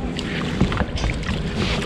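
Paddling a Galaxy Wildcat kayak out at sea, with steady splashing and water noise against the hull and some wind buffeting across the whole stretch, no talk over it.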